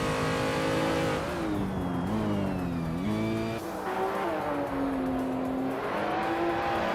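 Engine of a 2015 BMW CSL Homage race car in a racing video game, loud, with revs climbing and falling through several gear shifts and brief tyre squeal, no voices.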